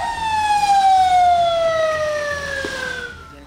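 Fire engine siren wailing at a warehouse fire in Karachi, a loud single descending tone that holds for a few seconds and then fades slightly, with low vehicle rumble beneath.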